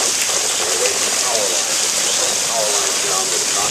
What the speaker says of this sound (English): there's hail on that, about pea size.